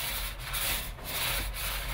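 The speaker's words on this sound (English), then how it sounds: "the best way to do that is to roll it on" A paint roller rolls a very dull, flat black coating onto a part during restoration of a historic Clark refractor telescope, giving a steady, close, soft rubbing swish with brief pauses between strokes.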